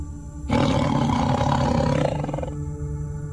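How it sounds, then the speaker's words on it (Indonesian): A deep, sustained tiger roar bursts in suddenly, loud and close, rumbling for about two seconds before trailing off into a low background hum. "terdengar suara seperti auman harimau"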